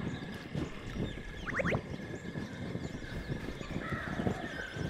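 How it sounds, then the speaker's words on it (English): A bird caws in the video game The Survivalists, a few brief harsh calls near the middle over a constant low outdoor ambience, fairly faint and with no talk. "You can get out of here too, silly bird."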